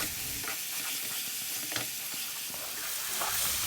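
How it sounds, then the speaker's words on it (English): Aubergines, green chilies and tomatoes cook in a pan with a steady close sizzle, broken by a few soft scrapes of stirring. "Add the aubergines as well and cook until any liquid has evaporated."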